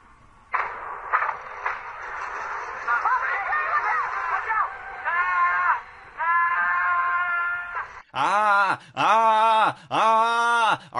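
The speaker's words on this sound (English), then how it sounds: "Are you all buying my fake screaming?" Exaggerated, theatrical fake screaming and groaning from a man in a Halloween full-moon setting: drawn-out wailing cries that swell, then a run of four loud, sharp yells in quick succession.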